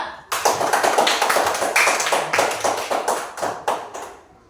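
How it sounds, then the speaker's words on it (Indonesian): Students in a classroom clap for a group that has just finished presenting during a teacher-training session: a burst of steady, dense hand claps that starts abruptly, stays loud and then thins out into scattered claps near the end. "Tepuk tangan dulu untuk kelompok 2."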